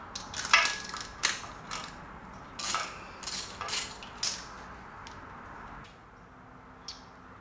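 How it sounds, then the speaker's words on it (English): A ratchet wrench loosens and draws a spark plug from the number one cylinder of a big block Chevy engine, giving a run of close, crisp metallic clicks and ticks in uneven bursts, with no voices. "I'm gonna pull a spark plug out of the number one cylinder"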